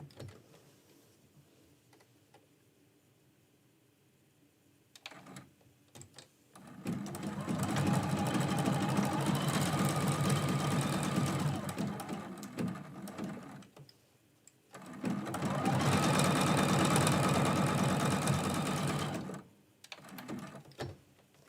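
A sewing machine stitches out a snowflake quilt block in two long, steady runs of rapid, loud mechanical chatter, with quiet handling and brief stops between them.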